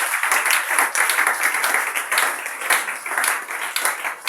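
A church audience applauds at the closing of a 2025 dedication service at A.E.C Mikonga, steady dense clapping from many hands lasting throughout, fairly loud and close.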